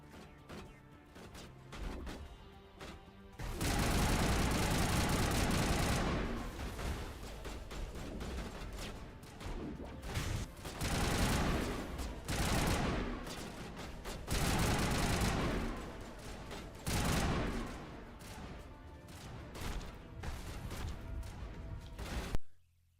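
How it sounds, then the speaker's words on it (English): Sustained bursts of gunfire from the video game Mass Effect, dense rattling volleys that swell and ease over and over, loud and continuous throughout with only brief lulls. "What are y'all shooting at?"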